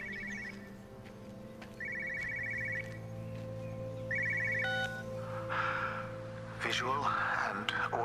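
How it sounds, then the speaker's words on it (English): An old-style telephone rings in the video game Everybody's Gone To The Rapture, three repeated bursts of trilling bell tone over a low ambient drone, followed by eerie distorted tones and swelling noise near the end. "I hear a phone ringing"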